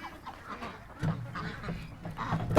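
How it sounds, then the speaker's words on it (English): A duck making a few close, raspy quacks and honks in short bursts, with louder calls near the end, over a faint background. "come on, little duck. Get inside."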